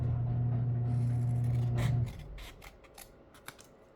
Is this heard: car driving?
no